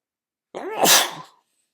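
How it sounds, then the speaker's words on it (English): A single close, loud sneeze: a short voiced intake bursting into a breathy hiss that fades within a second, surrounded by silence. "So forgive me if I suddenly sneeze."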